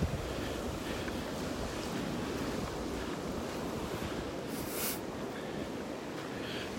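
Ocean surf on a morning beach in North Naples, Florida, a continuous wash of waves mixed with wind buffeting the microphone, steady and unbroken throughout.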